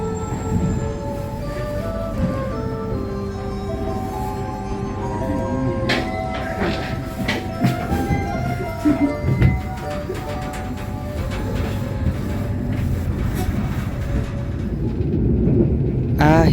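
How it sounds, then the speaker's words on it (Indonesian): The Harina economy-premium passenger train runs on the rails out of Semarang Tawang, a steady loud rumble of wheels with tonal squeals and occasional clatter rising and falling throughout, with no voices. "kereta api Harina telah diberangkatkan dari stasiun Semarang"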